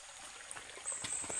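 Cold water trickles steadily near an old hut, a soft, even dribble with faint splashes that grows slightly louder toward the end, with no voices.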